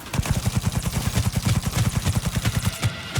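Rapid, evenly spaced smart pistol shots in Cyberpunk 2077, a fast rhythmic burst of about two dozen close, punchy reports firing without pause before a brief break at the end.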